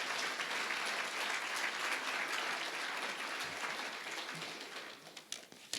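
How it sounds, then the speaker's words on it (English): Audience applause at an awards banquet, a steady dense wash of many hands clapping that holds for several seconds before thinning and tapering toward the end. "let's give him a hand of applause and his co-authors"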